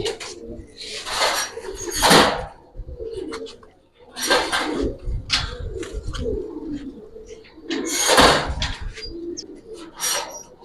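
Giribaz pigeons cooing in a loft, with low coos near the mic broken by bursts of wing flutter and rustling, and someone talking at times.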